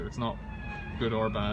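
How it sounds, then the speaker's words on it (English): Sirens wail faintly in the distance in Manchester, a steady rising tone running beneath a person speaking close by. "You can hear there's a lot of sirens in the background."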